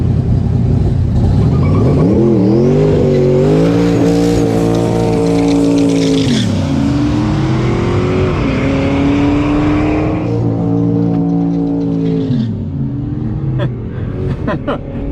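Cars at a drag strip roar through burnouts, several engines revving up and holding high, rising and falling in loud sustained waves over about fifteen seconds, with faint voices in the background.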